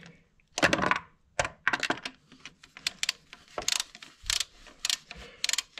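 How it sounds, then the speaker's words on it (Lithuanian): A GT2260V turbo being bolted onto the exhaust manifold of a Range Rover TD6 with a BMW M57 engine, heard as rapid bursts of metallic ratchet clicking with short pauses between them, close and loud with no talking. "turbiną priveržiu prie išmetimo kolektoriaus"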